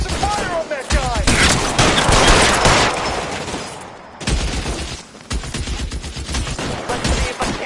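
Dense, loud gunfire rattles through a shootout in the LA Noire video game, with rapid bursts and single shots before and after a brief lull. Voices speak beneath the shots.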